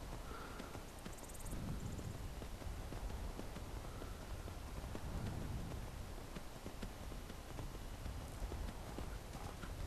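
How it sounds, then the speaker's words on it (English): A horse's hooves clip-clop in a steady, even rhythm while it is ridden at a slow pace in the video game Skyrim, continuous over a soft ambient wash with no talking. "I'm gonna see how far this horse is. Pretty slow."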